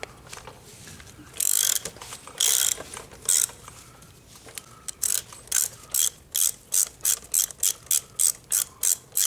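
A ratchet wrench loosens the 27 mm axle nut on a motorcycle's rear drum brake: a few slow, separated clicks give way to a quick, steady run of sharp, close clicking.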